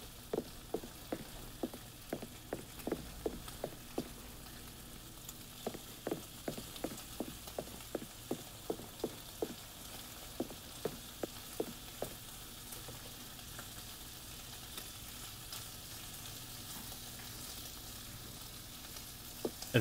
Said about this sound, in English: All right, we'll throw the butter in then.